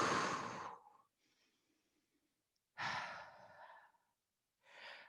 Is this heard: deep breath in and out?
yes